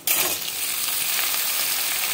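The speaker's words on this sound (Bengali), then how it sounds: "আলুটা দিয়ে ভাজবো।" Potato pieces dropped into hot oil for a pumpkin chhokka, bursting into a loud, close sizzle with a sharp onset that settles into steady frying, no voices.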